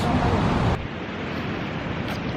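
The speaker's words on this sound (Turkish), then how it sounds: "Gemiler geçtikçe dalga kırıyor." Choppy sea waves washing against a breakwater as passing ships stir the water, a loud rushing surge that drops suddenly to a softer, steady wash, with wind noise on the microphone.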